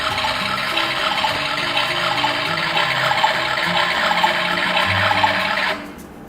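A toy washing machine runs with water inside, giving a steady, close hiss of churning water that holds evenly for nearly six seconds and then cuts off abruptly.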